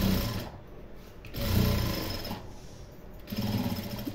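A sewing machine stitches a fabric hair bow for a little girl in several rhythmic runs separated by short pauses, close up and moderately loud.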